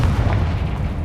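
A Confringo blasting spell explodes in the Hogwarts Legacy video game, a loud, sustained low booming rumble filling the whole second with no talk.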